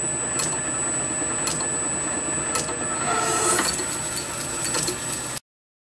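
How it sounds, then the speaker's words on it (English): A lathe cuts a small steam engine piston down to 8mm, a steady mechanical whir with a high whine and faint periodic ticks, fairly quiet and without speech, ending abruptly in silence. "I'm going to machine this down here to 8mm"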